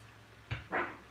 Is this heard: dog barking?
yes